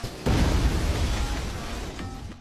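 A loud explosion from an experimental tank bursts out abruptly and sustains a heavy, rumbling roar that slowly fades, with no voices present.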